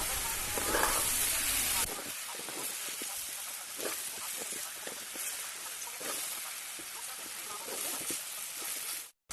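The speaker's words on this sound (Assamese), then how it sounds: "আলু দি অকণমান ভাজি তাৰপাছতে পানী দি দিম।" Potatoes hit a hot pan for frying, giving a loud burst of hiss at first that settles into softer, steady sizzling while someone talks over it.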